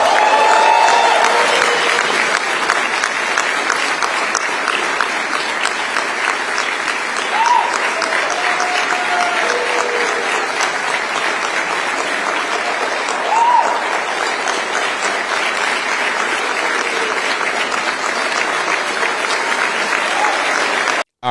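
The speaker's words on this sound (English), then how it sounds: "it's a lot of clapping and whatnot" A large crowd at a press event claps steadily and loudly for the full stretch, a dense sustained wash of applause with faint occasional whoops.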